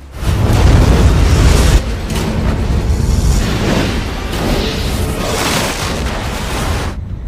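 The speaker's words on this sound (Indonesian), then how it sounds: "Ledakan besar itu lalu menghancurkan pangkalan yang tak menyisakan apa-apa" The pyramid explosion from the film Alien vs Predator: a loud, deep boom bursts at once into a sustained roaring rumble of blast and debris that gradually eases before cutting off.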